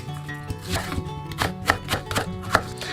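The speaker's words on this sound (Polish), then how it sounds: "jednej średniej cebuli, którą po obraniu pokroję w piórka" A knife chops a peeled medium onion into thin slices on a board, giving soft, uneven cutting taps over a faint background hum.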